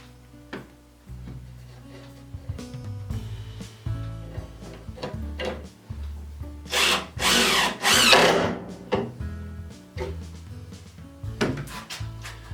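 A power driver drives Robertson square-drive screws into wood: short whirring bursts with clicks, knocks and wooden rubbing between them, close by, the loudest run of driving near the middle.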